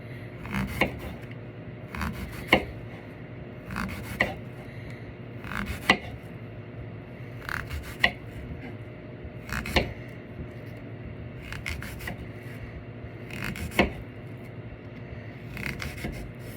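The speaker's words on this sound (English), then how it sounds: "So now the apple, I'm just gonna slice it like really thin." A knife slices an apple into thin slices, giving a steady series of light, close cutting taps against a board, roughly one every second or two, over a faint background.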